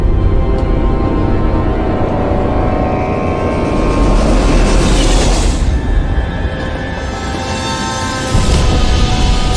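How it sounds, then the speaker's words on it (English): A super fast steam train in a video game roars past, a loud and continuous rumbling rush with heavy low thunder that surges and fades slightly over several seconds. "super fast steam train. Look at those wheels go."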